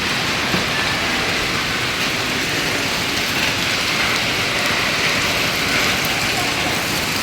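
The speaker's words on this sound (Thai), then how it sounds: "ฝนตกแรงฝนตกหนักมากๆครับ" Heavy rain pours down steadily outside a house whose entrance is flooding, a dense, even roar of water on surfaces that stays loud and unbroken throughout, with no pauses or letup.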